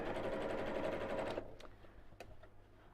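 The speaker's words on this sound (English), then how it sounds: "570A, it's actually my daughter's sewing machine" An Elna 570A domestic sewing machine stitches in a rapid, steady whirring run that stops abruptly after about a second and a half, leaving a few small clicks and handling noises nearby.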